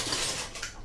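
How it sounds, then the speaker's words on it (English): A pile of metal tablespoons clinking and jangling together, a brief close burst of bright rattling clatter in a kitchen. "all of what you're hearing right now is spoons."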